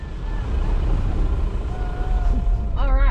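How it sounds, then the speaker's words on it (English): A four-wheel drive vehicle on Fraser Island gives a continuous low rumble mixed with wind buffeting the microphone. A voice speaks briefly near the end. "Fraser Island, four-wheel driving."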